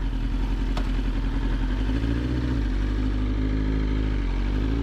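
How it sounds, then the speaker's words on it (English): A 2020 BMW S1000RR motorcycle cruising steadily, its engine a continuous low drone with a slight drop in pitch around midway, close and loud against wind rush on a hot day. "We're going to talk a little bit about this bike while we ride this bike."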